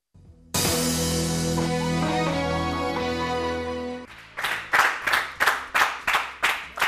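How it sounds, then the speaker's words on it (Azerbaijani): A TV talk-show studio audience claps for a doctor guest: after a sustained musical passage, steady rhythmic clapping breaks out in bursts, loud and close. "Həkimimizi alqışlayaq bir daha."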